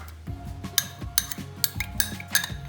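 Egg yolks and butter beaten together in a bowl for a coffee cake, a utensil knocking against the bowl in quick, repeated clinks and scrapes over several strokes.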